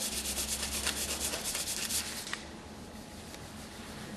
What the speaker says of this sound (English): Just give it a very light sanding over the top.